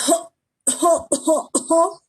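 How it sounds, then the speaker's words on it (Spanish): Four short coughs in succession, the last three close together, loud and near with no other sound. "La tos seca, ese tipo de tos"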